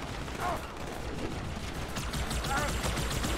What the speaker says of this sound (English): This gun is really powerful against them, like they're using their own weapons against them.